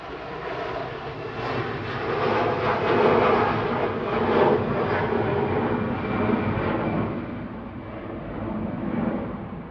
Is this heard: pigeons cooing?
no